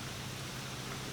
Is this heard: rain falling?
yes